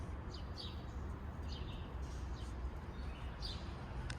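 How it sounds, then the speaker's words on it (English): Faint, high chirps from small birds trapped inside a building sound at intervals above a constant low rumble of background noise, distant and overhead. "I'm positive there's some birds stuck in here."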